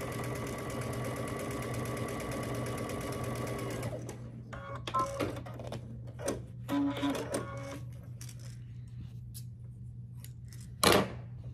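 A sewing machine stitches Churn Dash quilt blocks together with a quarter-inch seam, running in a steady, close mechanical whir for several seconds, then falling to short stop-start bursts and a sharp clack near the end over a low hum.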